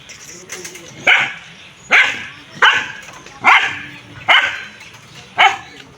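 A village dog barks six times at a steady pace, each bark loud and close, with quieter background sounds in the gaps between barks.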